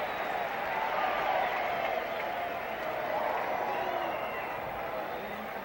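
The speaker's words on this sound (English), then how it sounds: "The reason you're hearing that intermittent roar from the crowd is down behind the screen" Steady crowd noise at a Minnesota Twins versus Boston Red Sox baseball game, a continuous broad roar swelling slightly and easing, heard from a distance with no close voices.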